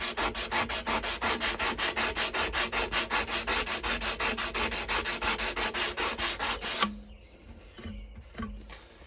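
Sandpaper rubs back and forth across a knife blade to work out deep scratches, a loud, even rasping rhythm of quick strokes that stops abruptly, followed by a few faint scrapes.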